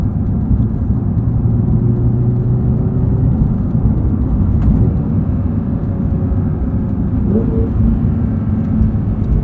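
Flat-six engine of a 2022 Porsche 911 GT3 with manual gearbox, driven in track mode with auto rev matching, droning steadily and loudly inside the cabin, with a brief rise in revs near the end and no talk.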